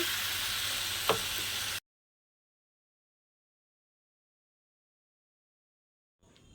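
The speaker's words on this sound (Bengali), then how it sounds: "এবার জল ঢেলে দেব" Water hits a hot pan of sautéed pointed gourd and potato, setting off a loud, close, hissing sizzle that stops abruptly, followed by silence and a brief return of faint noise.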